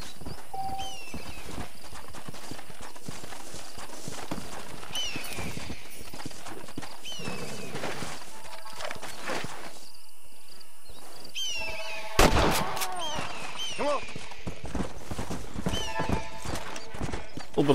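Horse hooves clip-clopping at a steady gait with whinnies in the Red Dead Redemption western game, set amid ambient wilderness sounds, a sharp louder burst near the end, and faint distant gunfire.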